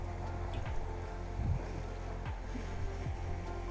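Steady wind of 11 to 12 knots rushes over a sailing boat off Corsica, with water sloshing against the hull and occasional creaks and knocks from the rigging.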